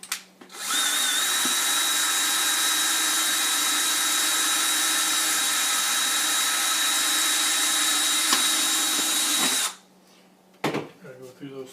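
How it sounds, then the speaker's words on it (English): A power drill bores through the layered plastic of a three-piece Stormtrooper helmet, running as a loud, steady whine for about nine seconds alone, then stopping abruptly, followed by a few brief handling knocks. "I'm going to drill the bottom"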